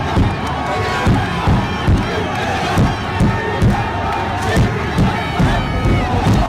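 Dense crowd of football fans at the East Bengal versus Mohun Bagan derby, a loud roaring chant with rhythmic pulses about once per second, mass voices filling the stadium continuously.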